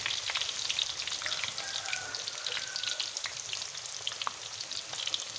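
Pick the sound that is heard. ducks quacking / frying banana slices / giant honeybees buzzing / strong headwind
frying banana slices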